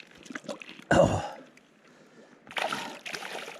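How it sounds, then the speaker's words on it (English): A smallmouth bass slips back into a river with one sharp splash, followed by fainter sloshing and water movement, close by and fairly loud, with no speech. "Let me put it back in the water real quick."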